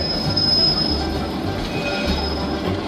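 Trolley rolling on rails with sustained metallic wheel squeal, loud and continuous throughout, a steady tonal screech riding over rumbling track noise, no voices.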